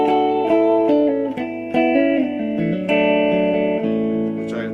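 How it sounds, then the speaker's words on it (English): Electric guitar notes and chords ring through an amplifier with a light reverb tail, plucked steadily with no other sounds. "basic sound of an electric guitar through an amplifier with a little reverb"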